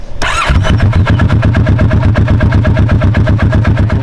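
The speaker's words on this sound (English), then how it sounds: "When I first bought this bike, I wasn't exactly crazy about the way the exhaust sounded." A 2015 Kawasaki Vulcan S 650 motorcycle with stock exhaust starts with a brief starter whirr, then settles into a loud, close, steady idle with an even pulsing beat.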